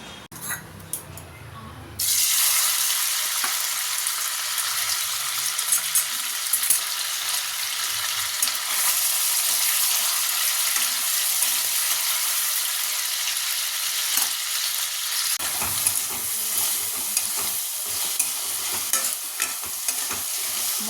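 Loud, steady sizzling of Maggi noodles with chilli sauce frying in a hot pan, with scraping stirring throughout, starting abruptly after a brief quieter moment.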